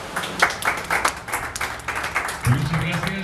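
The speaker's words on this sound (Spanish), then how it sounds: "hay que dar un gran aplauso a la empresa NGLL por hacer lo posible" Applause at a press conference for a company event, with scattered claps rising and falling under a man's continuous speech in a moderately reverberant room.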